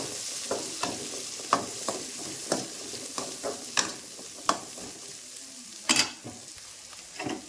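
Small onions are sautéed in sesame oil in a pan for tomato kuzhambu, with steady sizzling broken by repeated scraping stirs of a spatula, close and moderately loud, no talking.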